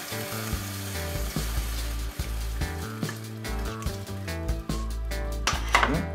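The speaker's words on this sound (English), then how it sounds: "now we are gonna add our pasta inside" Pasta tossed into a pan of sizzling sauce for a Jamaican rasta pasta with shrimp, with steady frying hiss, soft stirring and scraping clatter against the pan, close up with no talk.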